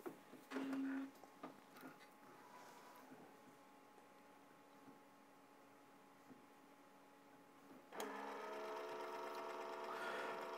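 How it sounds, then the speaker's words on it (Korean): An inkjet printer starts up and prints a photo at home, giving a few quiet mechanical whirs and clicks at first, then a steady, louder whirring hum as printing begins. "그러면 프린터가 작동을 시작하면서 프린트를 시작할 겁니다."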